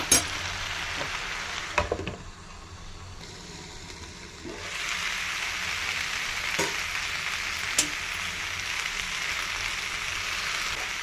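Beans frying in oil in a pan, with a steady close sizzle broken by a few sharp scrapes and knocks of stirring, and no voices.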